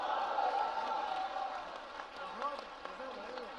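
An audience at a poetry recital during a literary festival applauds, a dense patter of clapping that fades under a voice as he speaks over it.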